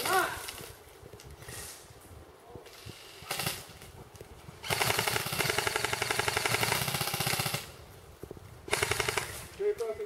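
Airsoft guns fire cover bursts during a live skirmish, long rapid rattling strings of shots in two main bursts with quieter gaps, fairly close, with players' voices between.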